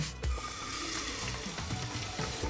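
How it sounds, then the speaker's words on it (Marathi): Onions dropped into hot oil in a pressure cooker pan sizzle and fry steadily, a bright continuous crackle with a thump as they land and some stirring, close up and without talk. "आता या तापलेल्या तेलात सर्वप्रथम कांदे घालत आहे।"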